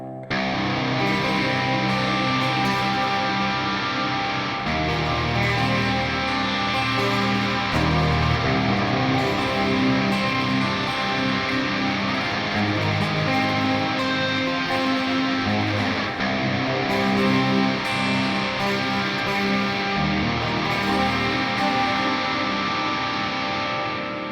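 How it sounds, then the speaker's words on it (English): A sustained acoustic guitar with a piezo pickup tone through a Line 6 Helix/HX Stomp, strummed chords ringing steadily for the whole stretch, soaked in spacious reverb, played alone without voices. "We've got our nice acoustic piezo tone there"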